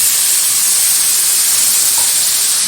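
Chicken pieces dropped into a pan of okra and potato curry set off a loud, steady hiss of sizzling that holds evenly throughout, close up and with no talk.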